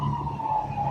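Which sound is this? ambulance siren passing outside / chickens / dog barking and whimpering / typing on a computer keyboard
ambulance siren passing outside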